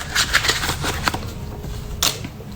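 Tarot cards being shuffled by hand: a run of quick, close, crisp riffling and flicking bursts, with one louder flurry near the end and no voices.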